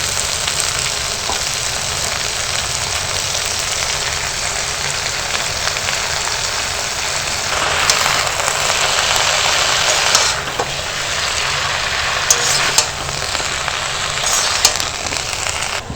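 Washed bottle gourd greens go into a pan of cooked pumpkin and potato, and a loud, steady, broadband sizzle follows, swelling into a harsher hiss partway through with a few short crackles near the end.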